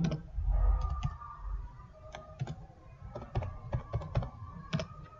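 Quick, irregular clicks of typing on a computer keyboard, close and fairly quiet, in short bursts of keystrokes with brief pauses between them.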